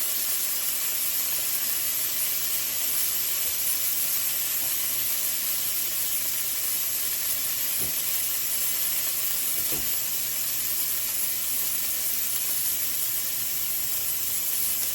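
Hamburger patties fry in a skillet with a steady, loud hiss of sizzling fat that holds throughout, broken only by two faint clicks.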